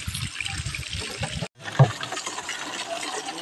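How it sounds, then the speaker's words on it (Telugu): Water streams steadily at the Ramagiri Valeeswaraswamy temple, a continuous close trickling rush that cuts out for an instant and then returns with a single soft knock. "ఎంత ఎండలు కాసినా కూడా ఆగనే ఆగం నీళ్ళు, ఎప్పుడు నిలవదు"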